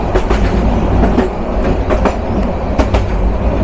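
The nonstop Subarna Express intercity train rolls past on a Bangladeshi railway, a loud, steady roar of wagons with repeated clickety-clack wheel beats on the rail joints, close and continuous throughout.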